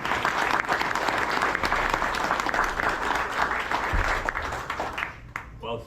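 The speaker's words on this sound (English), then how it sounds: "Please join us in giving a warm, liberty-loving applause to Mr." A crowd gives warm applause as a speaker on liberty takes the podium, sustained dense clapping that thins and tapers off near the end with a few scattered claps.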